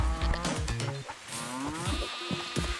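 A cartoonish cow lows with drawn-out, wavering calls in the Moving Out 2 video game, heard close over busy game music and sound effects.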